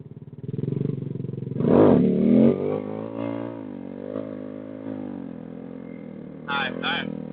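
A motorcycle with its idle turned up runs at a raised, steady engine drone, with a loud rev early on and brief blips later, while people talk over it during wheelie practice.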